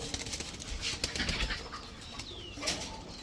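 A pair of Chuitail Khoira Gola giribaz pigeons flutter and shuffle nearby, with brief wing flaps and faint soft calls over a busy background.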